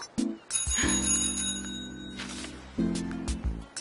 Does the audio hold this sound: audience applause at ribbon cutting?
no